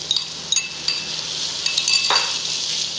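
Chicken with garlic and ginger frying in a pan for jalfrezi makes a continuous close hiss and sizzle. Small clicks and light utensil knocks sit on top.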